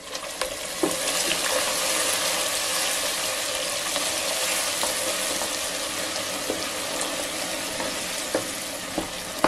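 Cubed butter dropped into hot caramel sizzles and bubbles fiercely, a dense, continuous frying hiss close by with a few sharp pops scattered through.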